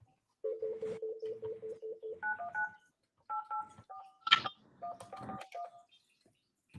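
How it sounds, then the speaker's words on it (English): A phone number is punched in on a keypad: a quick run of identical touch tones, then a slower sequence of varied beeps in short bursts with pauses, all fairly loud and without talk. "Nina, let me dial her number"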